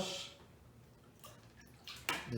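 A watercolor paintbrush is swished and rinsed in a water jar, giving soft, faint splashing that swells into a couple of brief, louder sloshes near the end.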